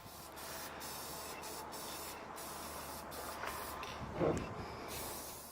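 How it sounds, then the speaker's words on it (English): Raw metal on a camper van roof is spray painted, with faint, soft hissing spray bursts over a steady low background, and one slightly stronger puff near the end. "We're just painting the raw metal. That way there's no chance of it rusting."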